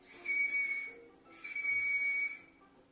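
Two loud, sustained shrill finger whistles, made with four fingers in the mouth, each lasting about a second with a short pause between them and no talk.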